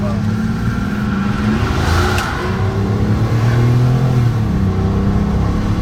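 Rolls-Royce Silver Seraph with a 301-horsepower engine and five-speed automatic accelerating, a steady rising engine hum heard from inside the cabin while people talk over it.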